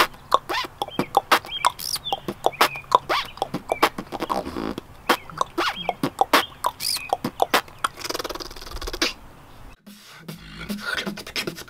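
A voice beatboxes a techno beat with rhythmic clicks, punchy percussive hits and imitated bird tweets and zipper sounds, close and loud, ending in a brief buzzy rasp.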